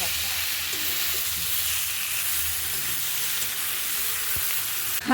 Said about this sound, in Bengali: নারকেল পাতা সর্ষে পাতা রেডি করে রেখেছি এগুলো একটু ভেজে নিই